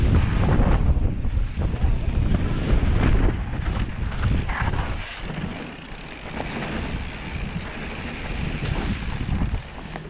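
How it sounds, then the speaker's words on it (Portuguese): Strong gusting wind buffets the microphone with a heavy low roar, easing slightly midway before surging again, with water sloshing faintly underneath. "Aqui tá ventando um pouco, dificultou muito."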